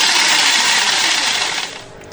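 A secondhand electric jigsaw runs in a loud, steady, high buzzing whine that eases off slightly near the end.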